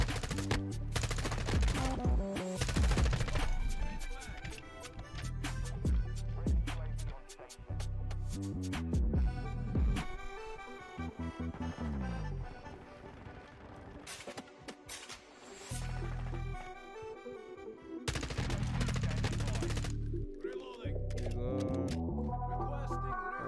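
M4 rifle fire in the video game Modern Warfare 2, loud repeated bursts and rapid shots with mechanical clicks, dense and continuous across the clip over game effects.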